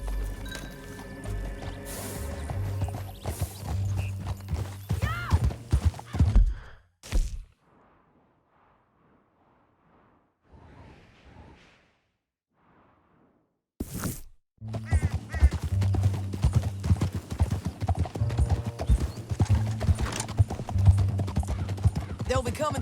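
Horse hooves clip-clop in a steady gallop in the Red Dead Redemption 2 video game, loud and close, broken by a quiet stretch in the middle, with game sounds around them.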